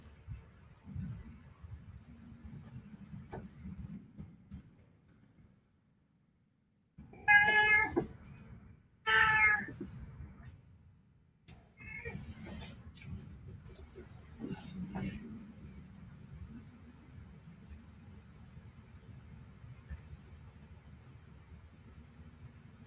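A pet cat meows twice in clear, loud calls indoors, followed by fainter chirps and rustles over a low steady hum.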